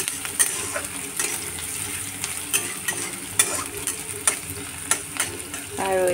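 Finely chopped onions frying in a pan for a fish curry with coconut and tomato, a steady sizzle broken by regular clinks and scrapes of a stirring spoon, close and fairly loud.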